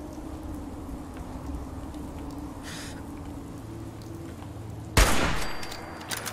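Fallout 4 gameplay: a quiet, faintly hissing scene is broken near the end by one sudden, sharp gunshot that decays quickly.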